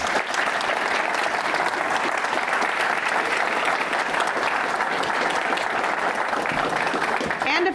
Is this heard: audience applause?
yes